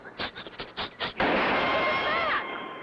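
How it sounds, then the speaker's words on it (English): Cartoon gunshots fired at the characters: a quick series of about six sharp cracks, then a sustained harsh ricocheting whine that fades, loud and close. "Someone's shooting at us."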